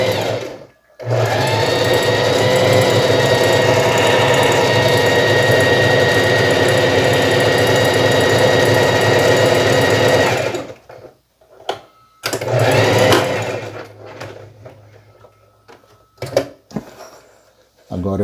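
A Facilita Pro sewing machine runs steadily for about ten seconds stitching a decorative stitch, a loud, rapid mechanical whir, then stops and restarts in shorter bursts with clicks and handling noises.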